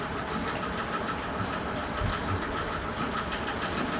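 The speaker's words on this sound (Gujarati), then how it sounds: "આપણે આપણું ટ્રેક્ટર લઈને નીકળી ગયા છીએ," A farm tractor's engine runs steadily throughout, setting out to fetch fodder for cows and buffaloes, with a continuous low rumble and no talk.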